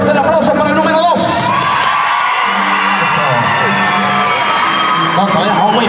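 A rodeo crowd cheers, whoops and shouts in a loud, dense wash, with a few claps and children's yells mixed in, and voices talking over it.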